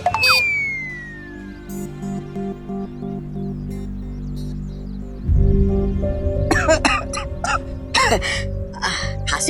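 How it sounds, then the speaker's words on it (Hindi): Several harsh, rasping coughs burst out close by in quick succession near the end, over a low steady background hum. "खांसी हो रही है"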